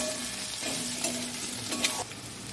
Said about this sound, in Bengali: মশলার সঙ্গে যখন গাঠিটা ভালো করে সাতলানো হয়ে যাবে